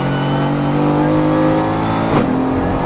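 Mercedes-AMG GT4 race car engine in a night practice session at the Dubai 24 hour, droning loudly and steadily from inside, with a brief rising burst near the end as it shifts down a few gears.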